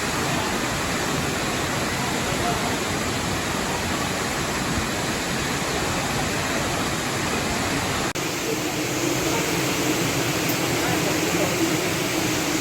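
Shifen Waterfall in New Taipei City, rushing water as a dense, steady broadband roar, loud and continuous with no talk.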